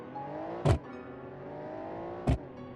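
A V12 car in the BeamNG driving game holds a steady, even engine drone with harmonic whine, broken by two short loud thumps or bumps, with no talking.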